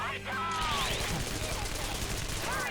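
A gun attack in Persona 5 Royal rings out as a rapid fusillade of gunfire under busy battle effects and a voice, moderately loud and sustained.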